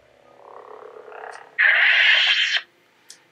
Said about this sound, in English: It's a very classic lightsaber sound.